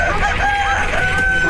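A rooster crows in a Marathi TV serial scene before sunrise, a drawn-out tonal call held across the whole moment over a steady background hum, with no talk.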